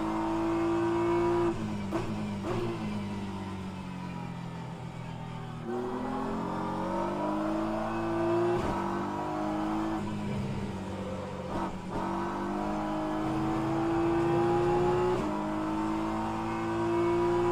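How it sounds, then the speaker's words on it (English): A faster-class race car in rFactor 2 at an endurance race at Spa-Francorchamps, engine revving loud and close as it shifts through gears repeatedly, pitch climbing and dropping with each change. "There's a faster class car approaching."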